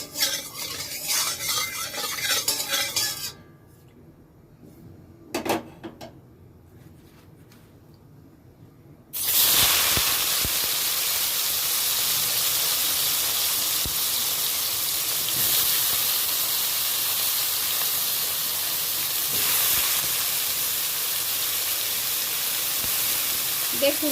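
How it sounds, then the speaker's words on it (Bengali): Salted, turmeric-coated eggplant pieces drop into hot mustard oil and burst into a loud, steady sizzle that runs continuously after a quieter stretch of faint kitchen clatter. "এবার নুন হলুদ মাখানো বেগুনগুলো আমি এই তেলের মধ্যে দিয়ে দেব।"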